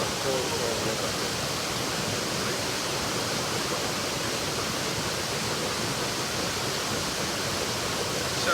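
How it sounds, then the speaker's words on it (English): Steady, dense roar of a tall waterfall, about 30 to 40 meters high, in Eldama Ravine, Baringo County, Kenya, filling the whole clip as continuous close rushing water with no break. "This waterfall is actually probably 30 to 40 meters tall."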